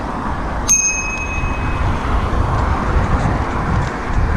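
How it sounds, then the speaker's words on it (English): A bicycle bell gives a single bright ring that decays over about a second, heard over steady road and traffic noise on Windsor Road in Sydney. "Good tip is always to toot your bell before you go past someone."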